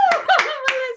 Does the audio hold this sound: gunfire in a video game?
no